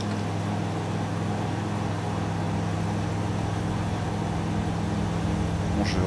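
Aircraft engines held at full power on the takeoff roll in Microsoft Flight Simulator 2020, a steady, even engine drone with a constant low hum throughout and no voices over it.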